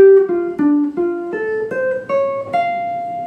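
Solo guitar plays the opening line of a bebop tune: a clean, close run of about nine plucked single notes climbing step by step in a steady rhythm, with no voices.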